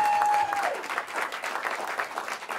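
Audience applause at a private radio concert, a dense, steady clapping from a small crowd that carries on after a brief held tone at the start.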